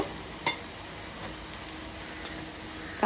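Chopped carrots, green beans and peas fry for fried rice in a pan, giving a soft, continuous sizzle with a couple of faint stirring knocks and no talking.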